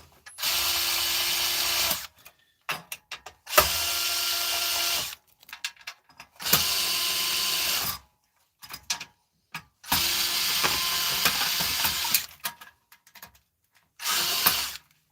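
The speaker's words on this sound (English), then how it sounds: "Get my screwdriver out here now." A power screwdriver whirs in several bursts of about two seconds each while electronics are taken apart for scrap, with short clicks and handling noises in the pauses between runs.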